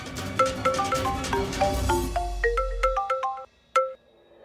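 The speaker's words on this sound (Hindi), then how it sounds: "सखी, कहाँ हो बेटा? कब से फोन कर रहे हैं?" A phone ringtone plays a bright, repeating electronic melody up close, stopping briefly and then sounding one more note.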